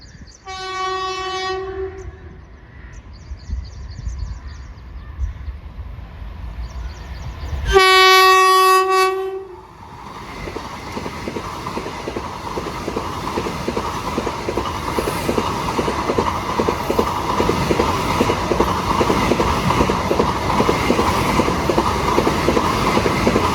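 Train passing near Bekal Fort, with two loud blasts of the horn, one brief and one longer, then a steady, building rumble and clatter of wagons rolling by close at hand.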